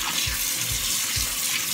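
Hot water runs from a kitchen tap over meat being rinsed in a sink, a steady close splashing rush with a few soft thuds of handling.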